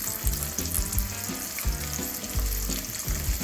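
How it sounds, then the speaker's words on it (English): Apple smoked bacon fries slowly in a pan, a steady close sizzle and crackle with small pops, broken now and then by low thuds and scraping as the strips are moved or stirred. "I like to cook my bacon nice and slow,"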